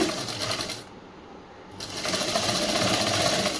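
A sewing machine stitches a chudi top for a school uniform, a close, fast mechanical rattle that pauses briefly and then resumes.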